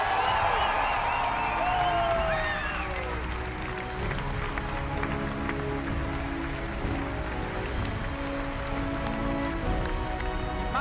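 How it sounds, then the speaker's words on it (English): Audience applause fills a large hall at the E3 2015 Fallout 4 presentation in Los Angeles, a steady dense clapping wash with some cheering and music underneath, loudest at the start and holding evenly throughout. "can I please get another round of applause for that man?"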